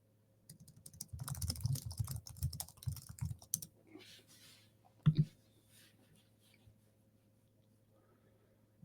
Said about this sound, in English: Oh man, my typing.